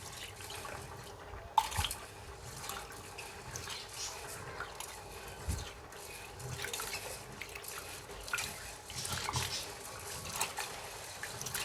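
Jowar (sorghum) grains are washed by hand in cool water, giving soft irregular splashes, drips and sloshing at close range, fairly quiet with small scattered bursts.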